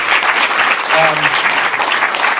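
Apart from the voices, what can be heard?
audience applause for a comedian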